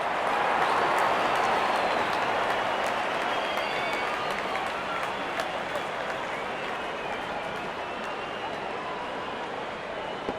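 Stadium crowd at a T10 cricket match between Australia and Pakistan, a loud, sustained roar of applause and cheering that fades slightly over about ten seconds.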